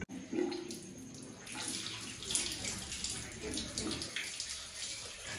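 Cold tap water runs steadily as hands are washed beneath it, a continuous splashing rush that holds fairly even for several seconds, with faint voices in the background.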